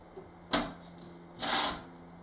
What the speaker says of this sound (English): I'm going to trim this piece now.